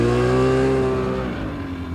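A tracked snow vehicle's engine revs with a little throttle in soft powder snow, a loud steady harmonic drone that holds then drops off after about a second, settling into a lower rumble.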